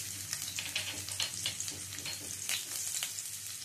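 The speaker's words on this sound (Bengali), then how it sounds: "তেলটা গরম হয়ে গেলে এর মধ্যে দিয়ে দিচ্ছি আদা কুচি, রসুন কুচি," Chopped ginger, garlic and green chili sizzle steadily in hot oil for a gravy Manchurian with corn, a loud, continuous crackling fry with sharp pops and no voices.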